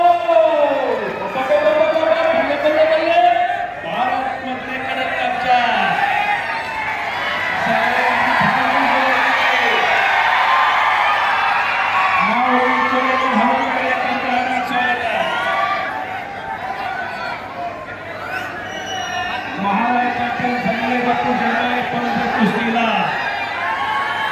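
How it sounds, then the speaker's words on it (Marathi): Crowd at a wrestling ground in Baramati roaring and cheering in swelling waves, with shouting voices and an announcer talking over the din. "जोश आणि जल्लोष त्याचे पाठीराखे"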